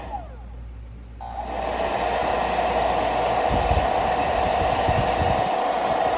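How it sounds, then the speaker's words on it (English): A hair dryer switches on after a second of low hum and then blows with a steady, loud whooshing roar as it dries chalk paint on a handmade ornament. "Let's take our dryer here"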